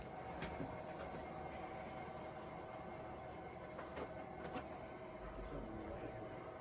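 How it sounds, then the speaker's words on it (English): An HO scale model train rolls around a curve near the layout's backdrop, giving a steady, low rumbling hum with faint rhythmic clicks from the wheels that continue throughout at a moderate, even level. "Getting the train going around the curve there near the backdrop"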